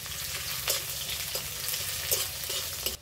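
Chopped onion and panch phoron frying in mustard oil for vegetable chop, a steady close sizzle with scraping stirs of a spatula at intervals and no talk.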